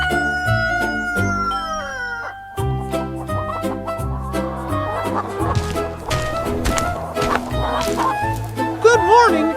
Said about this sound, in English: Good morning, my hens.